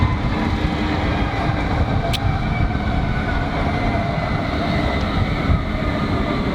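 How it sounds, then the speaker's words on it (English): A testing tram in Newcastle rolls past nearby, giving a steady, continuous rumble of wheels and motor with no break and no voices. "And here's a tram to my left right now."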